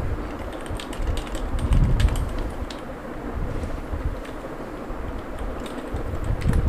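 Computer keyboard typing during web setup, with steady rapid key clicks throughout, close and moderately loud over a low background hum.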